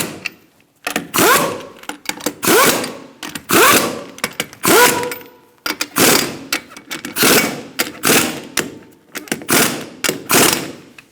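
Wheel lug nuts on a 2002-2006 Honda CR-V are run down with a power tool in a star pattern, a close, loud series of whirring, ratcheting bursts, each a second or so long, separated by short pauses.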